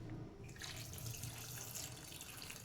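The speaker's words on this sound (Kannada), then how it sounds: "ಈಗ ನಾನು ನೀರು ಹಾಕ್ಕೊಳ್ತೀನಿ." Water pours steadily into a pressure cooker holding vegetables for shavige, a continuous close splashing stream running the whole time with no talking.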